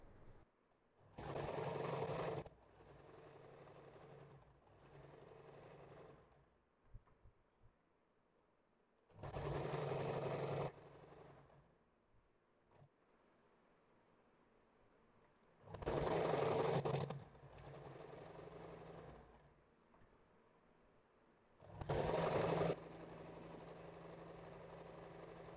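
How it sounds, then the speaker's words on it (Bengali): A sewing machine stitching fabric for a paper-bag belt with a side pocket, running in four steady bursts of a few seconds each, separated by quiet pauses with light handling sounds. "রাখার পর এর উপর থেকে একটা সেলাই করছি"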